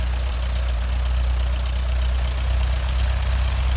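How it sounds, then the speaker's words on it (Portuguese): A flight simulator aircraft engine idles with a constant low rumble and faint vibration, unchanging throughout, with no voices. "Segura o freio e acelera um pouco para o motor não morrer."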